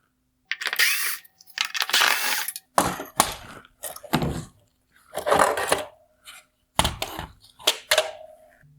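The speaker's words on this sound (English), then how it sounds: "Next, I'll remove the T20 screws holding on the light bars." T20 screws being removed from a 2021-2022 BMW 430i LED headlight, giving sharp, close metallic clicks and ticks of the driver and loose screws in a dozen scattered bursts with quiet gaps.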